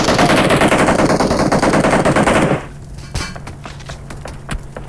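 Dense, rapid gunfire in PUBG Mobile rattles continuously for a couple of seconds, then drops to scattered sharp shots and clicks at a lower level.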